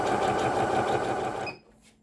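A Singer HD6805 sewing machine runs with its thread tension turned down, a close rapid stitching hum lasting about a second and a half that then stops abruptly, leaving near quiet.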